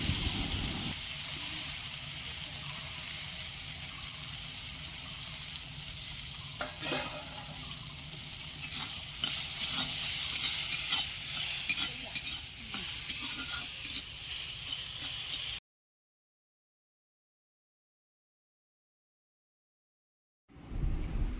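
Garlic and chopped sour mango frying in leftover fish-frying oil, a continuous moderate sizzle with scraping stirs and crackles, cutting to silence near the end before sizzling briefly resumes.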